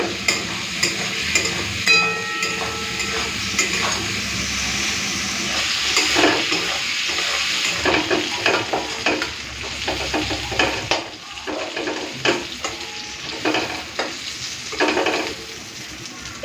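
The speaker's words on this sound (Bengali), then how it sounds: "চলুন প্রথমে চিংড়ি মাছটা ভেজে নিই।" Shrimp seasoned with turmeric and salt frying in hot oil in a pan, a loud continuous sizzle with frequent scraping stirs and clinks from the spatula, steady and close.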